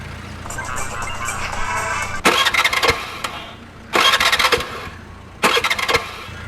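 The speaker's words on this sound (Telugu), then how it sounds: "స్టార్ట్ చేయడానికి ట్రై చేస్తుందన్న." A motorbike being kick- or push-started in a film scene: three separate bursts of rough mechanical revving and clatter over a steady background hum, each lasting under a second.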